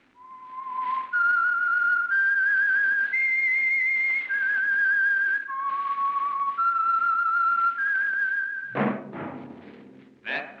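A single person whistles the signal tune for the Signal Oil program The Whistler, a clear melodic sequence of sustained pitched notes stepping up and down, loud and close, ending with a few soft thumps.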